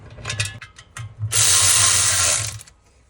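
A cordless impact wrench zips nuts and bolts off during B8 S4 transmission removal, giving one loud buzzing burst of just over a second after a low mechanical rumble.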